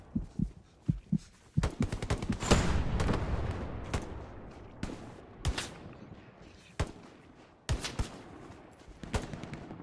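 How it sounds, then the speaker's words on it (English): Machine gun fire in the World War II shooter Hell Let Loose cracks in short irregular bursts of sharp shots, some close and heavy, others quicker and more distant, with no talk over it. "probably there should be an MG gun or something"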